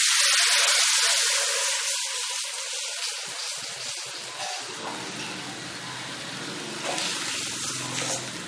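Water for rice upma is poured into a hot pan of tempering in a Tirunelveli home kitchen, hitting with a loud hiss and sizzle that settles into a steady bubbling gush.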